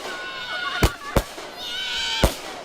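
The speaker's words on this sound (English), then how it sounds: "Now we know about this famous firework that caused the fire." Gender reveal fireworks go off in three sharp, loud bangs spaced across a few seconds, with crackling and a rising whistle-like tone between them in the open air.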